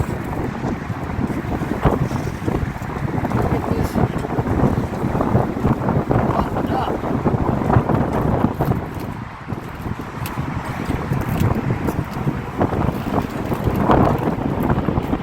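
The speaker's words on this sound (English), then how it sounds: "it's getting more and more windy out here" Strong wind roars continuously across the microphone over the wash of water around a boat, while a person briefly speaks.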